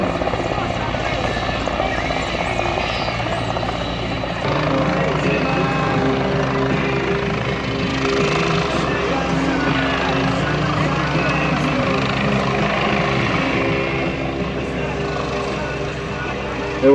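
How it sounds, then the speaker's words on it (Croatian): A helicopter demonstrates hovering at the CIAV 2018 air show in Varaždin, its loud, steady rotor and engine drone filling the whole stretch up close, with a commentator's voice over the public address mixed in. "Evo, kao što vidite, helikopter vam demonstrira ono u čemu je bolji u odnosu na avione."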